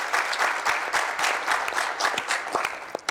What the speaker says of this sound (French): C'est à applaudir quand même.